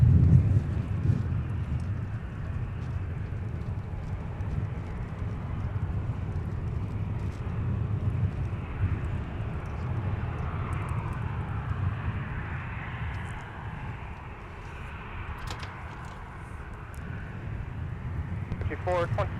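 A Delta airliner rumbles on the south parallel runway at Minneapolis–St. Paul airport, a low steady engine roar carrying at a distance, with a voice talking over it.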